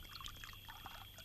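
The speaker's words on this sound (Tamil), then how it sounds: "ஃபுல்லா ஊத்து." Liquor poured into a glass in a movie scene, a soft steady trickling stream running continuously at low level.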